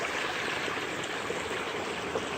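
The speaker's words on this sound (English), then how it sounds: "The creek is pretty dang small." A small creek near its source in a North Carolina mountain state forest rushes and trickles as a steady, full wash of running water, continuous and close, with no voices.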